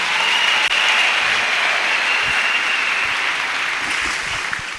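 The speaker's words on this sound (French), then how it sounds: "Acclamons le Seigneur pour les témoignages." A church congregation applauds the Lord at a worship service, steady broadband clapping sustained throughout and tapering slightly at the end, with no talking over it.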